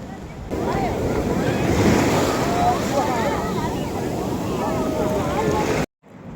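Sea waves breaking on the beach at Mahabalipuram in steady rain, a loud continuous surf roar with wind gusting across the microphone, cutting off abruptly near the end.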